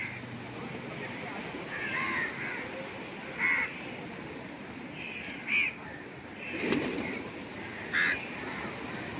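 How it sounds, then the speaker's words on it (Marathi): Crows cawing in short separate bursts, some nearer and some farther off, over steady outdoor background noise while stray dogs are being fed; a voice is faintly present. "कावळ्याच येतात मध्ये ते कावळ्यांना पण टाक साईडला"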